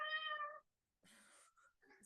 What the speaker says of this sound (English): Sorry if the cat irritates you.